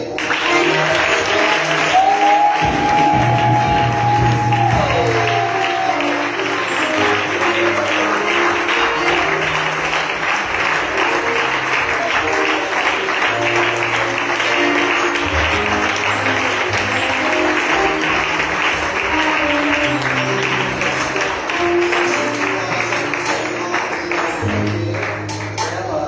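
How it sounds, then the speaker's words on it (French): A church congregation applauds and cheers during a worship service, steady loud clapping filling the whole stretch with crowd noise, a low musical drone beneath and a brief sung tone early on. "On peut acclamer pour"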